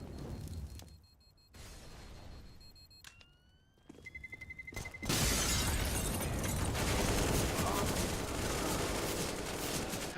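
Gunfire in a competitive Counter-Strike match: scattered shots and metallic pings give way to a loud, sustained barrage of overlapping weapons and impacts that continues to the end.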